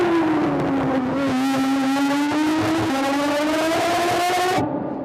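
Aston Martin Vulcan V12 race car engine revving: a loud, sustained high-pitched howl that dips slightly, then climbs steadily before cutting off abruptly near the end, with no voices.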